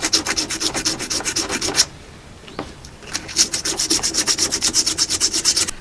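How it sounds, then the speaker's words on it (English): Fine sandpaper scrubbing corrosion off a car thermostat water neck in a driveway, heard as close, brisk back-and-forth strokes in a fast steady rhythm, with a short pause midway before the strokes resume. "I'm going to get a little bit of sandpaper and clean this up."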